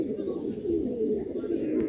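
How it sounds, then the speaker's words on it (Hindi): A pigeon held close by coos in a low, steady rolling murmur, while someone talks over it. "माशाल्लाह अच्छा कबूतर है जी।"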